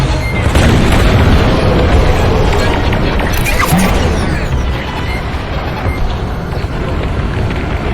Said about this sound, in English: Proton bombs, excellent weapons against hardened targets. Bombs fired straight down from your starfighter.